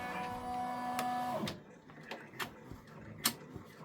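A Brother embroidery machine stitches a freestanding lace bridge. A motor whine with steady tones runs for about a second and a half, then gives way to sparse, sharp mechanical ticks and clacks close by.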